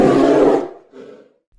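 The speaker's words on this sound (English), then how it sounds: "Polar bear." A polar bear gives one loud, deep roar lasting about half a second, followed by a shorter, fainter growling tail before silence.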